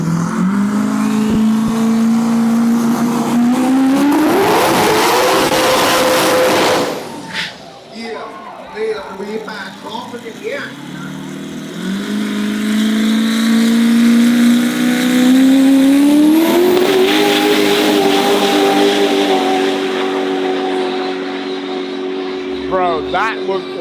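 An LS1-based, big-turbo dragster making over 1,500 horsepower, at a Thai drag racing event, revs loud and close in two long climbing sweeps separated by a rough, sputtering dip, with voices faint in the background.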